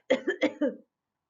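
Three or four short, light coughs in a quick run, close and clear, then silence.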